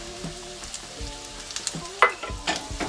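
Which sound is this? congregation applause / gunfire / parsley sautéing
parsley sautéing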